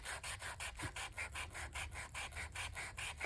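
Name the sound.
sanding disc sanding a painted tile surface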